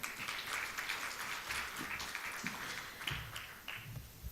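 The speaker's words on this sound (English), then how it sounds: "So please give her a round of applause." An audience at a women's leadership event applauds a speaker, a dense, continuous patter of many hands clapping at moderate distance, fairly faint and steady throughout.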